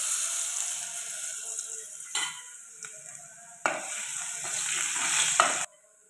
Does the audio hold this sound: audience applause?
no